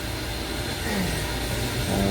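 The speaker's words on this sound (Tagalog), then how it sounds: "merong helicopter dyan na magtugpa." A helicopter landing nearby, heard as a loud, steady broadband rotor and engine roar that fills the whole stretch without pause, close and constant with no talk over it.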